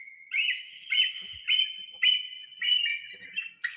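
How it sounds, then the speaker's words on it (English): A bald eagle gives a high, thin series of piping whistles and chirps in short bursts, about six calls in quick succession, clear and alone. "this is what bald eagles sound like"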